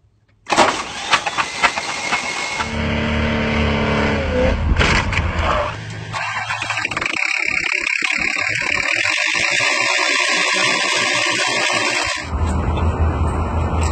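A damaged car engine with a piston coming out of the header runs loud and rough, with a harsh rattling, knocking clatter that shifts in tone partway through, close up and continuous.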